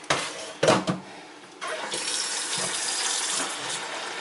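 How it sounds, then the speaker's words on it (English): Tap water running and splashing into a bowl of kidney beans set to soak overnight for homemade baked Boston beans, a short gush followed by a steady, close pour. "I'm going to add a little bit more water."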